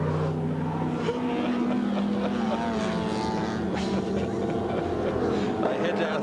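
Historic touring cars, including Valiants, a Bel Air or Impala and an ISO Revolta, racing at Amaroo Park, New South Wales, in 1986. A steady, loud engine roar with shifting tones persists throughout, with a commentator speaking over it.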